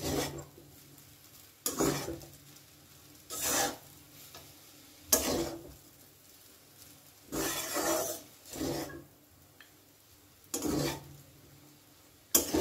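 Chow mein noodles and ingredients are tossed together in a pan, producing a series of about eight rhythmic scraping and rustling strokes of a utensil against the pan, separated by quiet pauses, with no talking.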